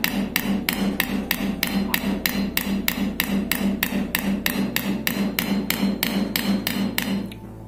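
Steady rapid hammer strikes on the threaded shaft of a Hurst gear shifter knob from a Chevy Nova, loud and close, about two blows per second in an even unbroken rhythm.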